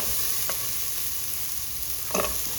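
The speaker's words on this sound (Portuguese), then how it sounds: "Coloco a cebola, um pouquinho de sal. Vou dar aqui uma refogada." Onion with a pinch of salt sautéing in a pan for a vegan coxinha filling, a dense continuous sizzle with a couple of brief utensil scrapes, no voices.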